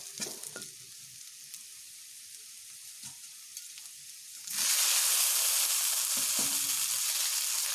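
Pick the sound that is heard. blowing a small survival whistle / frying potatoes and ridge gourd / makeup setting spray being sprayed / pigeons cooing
frying potatoes and ridge gourd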